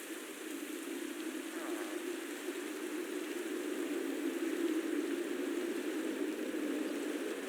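Steady rain in a video game's railway exploration world at night, a continuous even hiss of falling drops with no talking.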